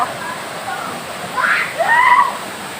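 Steady rushing water noise from Ban Khanaeng waterfall in Chiang Kham, Phayao, Thailand, flowing low in the dry season, with a couple of brief higher sounds rising over the constant wash.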